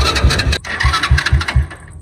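A tractor engine cranks and fails to catch, giving a run of loud, rhythmic low chugging pulses about once every quarter second. The pulses are close and briefly broken by a short gap.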